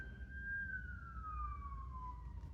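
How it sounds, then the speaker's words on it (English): Emergency vehicle siren passing outside, a single faint wailing tone that slowly falls in pitch as it moves away, over a low background rumble with no talk. "Sorry about the sirens, guys."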